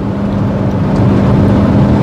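A Porsche Cayenne 4.2 TDI diesel engine fitted with a big brake kit pulls hard under throttle as it accelerates, a loud, close, steady low drone.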